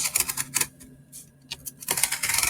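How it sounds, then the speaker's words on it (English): A knife cutting through corrugated cardboard for a book cover, in a few quick scraping bursts separated by short pauses, close and fairly crisp. "we are going across the corrugated cardboard in the middle, which is also why that cut takes more passes"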